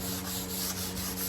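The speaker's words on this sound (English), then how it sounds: "and I'm gonna sand this a little bit and show you guys what I mean." Hand scuff sanding with 220-grit sandpaper knocks down the shine on a painted surface during paint prep, a steady close scratchy rubbing with soft back-and-forth strokes and no talking.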